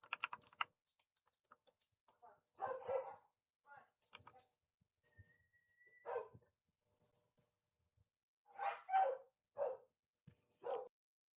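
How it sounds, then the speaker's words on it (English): Several dogs bark indoors in scattered bursts, some sharp single barks and some quick doubles, heard behind nearby computer keyboard typing and clicking, with quiet gaps between. "My dogs were going crazy."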